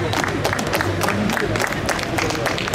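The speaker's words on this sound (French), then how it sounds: "Voilà les bénévoles qui applaudissent." Volunteers applauding at a free crêpe handout for homeless people in Lyon, a steady crowd of clapping with scattered voices mixed in, continuous and moderately loud for the whole stretch.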